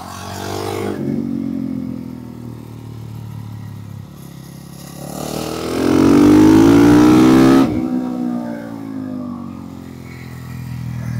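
A motorcycle lapping a dusty race track: a steady, close engine drone that surges into a loud rev for a couple of seconds, then drops back to a lower, even hum.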